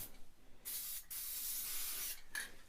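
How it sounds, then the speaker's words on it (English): Two short hissing bursts from a spray can painting an HO scale model tree, the first long and steady, the second brief, close by with quiet pauses around them. "unfortunately I'm getting spray where I don't want it to"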